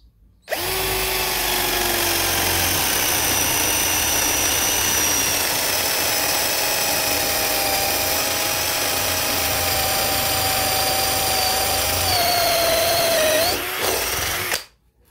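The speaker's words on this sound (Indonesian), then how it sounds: "kita coba lagi nggih sebelah sini" A Dongcheng DCJZ1202i cordless drill whines steadily for about fourteen seconds at high speed, close and loud, with a slight pitch dip near the end before it stops.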